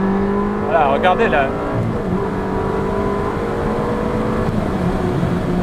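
A Ferrari 360 Modena F1 engine roars up through the gears, its harmonic rising and dropping with each shift, loud and steady as someone talks over the start.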